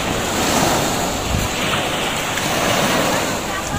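Ocean surf washes steadily at the sea on a rainy-day outing, a continuous broadband roar mixed with wind buffeting the microphone, with no distinct voices.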